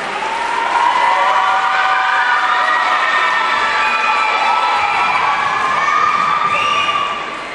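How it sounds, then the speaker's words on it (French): An audience at a club gathering cheers and shouts for a coach being introduced, a loud, dense and steady wall of crowd noise with high voices and whistle-like shrieks throughout. "vous pouvez l'applaudir"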